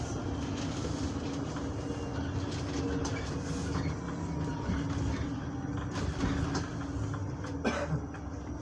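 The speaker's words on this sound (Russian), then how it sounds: "Так, летает электробус. Нажмем вот эту кнопочку." An electric bus hums along steadily at moderate level, a continuous low rumble with faint rattling and clicks and a brief squeal near the end, with no talk.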